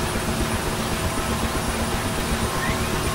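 A UH-1H Huey helicopter idles in the DCS World flight simulator, its engine giving a constant, dense turbine whine and low rumble that stays loud and unchanging throughout, with no voices.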